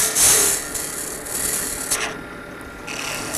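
Lathe tool cutting a spinning acrylic pen blank, giving a steady close rasping, scraping hiss that swells and eases in a few pulses over a few seconds, with no talk.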